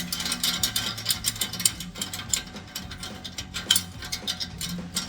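A ratchet wrench clicks rapidly in short bursts while loosening an exhaust clamp bolt on a Chevrolet Silverado 1500 exhaust system, close and fairly quiet, with no talking.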